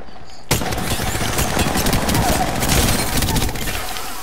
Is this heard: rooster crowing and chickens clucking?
no